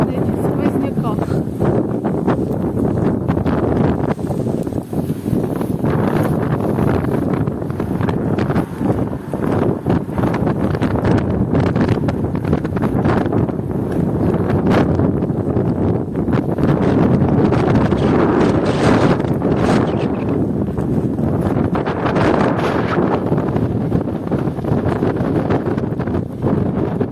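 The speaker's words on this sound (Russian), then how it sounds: "Вот такой ветер, я даже не ставлю на паузу, потому что, чтобы вы слышали." Strong winter wind gusting through a residential district of Odesa in frost and snow, buffeting the microphone with a loud, continuous roar that swells and eases, while someone talks through it.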